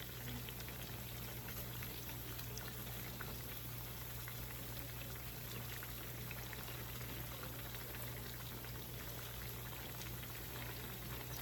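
Steady low sizzle of food frying in a pan at a Sunday home cooking, a faint, even crackle that runs unbroken the whole time with no talking.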